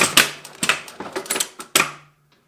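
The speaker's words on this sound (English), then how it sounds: "does the back tack and cuts the thread" Juki LU-2810-7 industrial walking-foot sewing machine running a quick back tack and trimming the thread, a close burst of rapid mechanical clacks and thumps ending in a final snap, then quiet.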